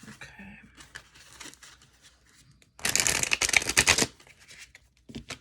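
A stiff new deck of cards being shuffled, a dense burst of rapid riffling crackle lasting about a second, preceded by quieter handling sounds.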